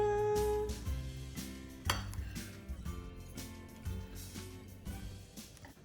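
A quinoa kimchi bowl being mixed, utensils clinking and scraping against the bowl in a steady run of close, moderately loud knocks and clinks, with no talking.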